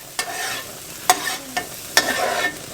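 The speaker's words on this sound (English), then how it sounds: "Basically, I just leave it here and let it fry" Vegan scramble frying in oil in a pan, with a steady sizzle broken by four sharp scraping stirs and smashing strokes of a spatula, close and fairly loud.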